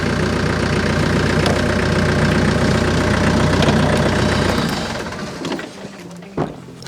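A tractor engine runs loud and steady nearby with a low knocking idle, then is shut off near the end, followed by quieter handling sounds during a fence post pulling test.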